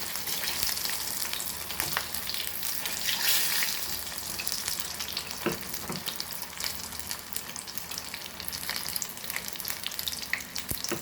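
Prawn tempura fries in hot oil, giving a steady, crackling sizzle with scattered pops and small clatters nearby.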